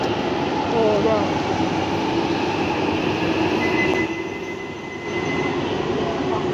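London Underground Jubilee line train at a station platform, a loud continuous rumble and whoosh of the train moving through with faint wheel squeal and a brief dip, ambient station noise throughout.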